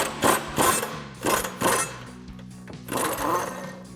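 Tools ring out while a body mount bolt is removed from a 2015-2023 Ford Mustang, with several sharp metallic clanks and ratchet-like bursts in an uneven rhythm, close and moderately loud.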